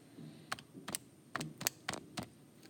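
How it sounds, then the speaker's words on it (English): Around seven sharp plastic button taps on a calculator as numbers are keyed in, close by and irregularly spaced, with a faint background hiss and no talking. "so we just type that in on our calculator."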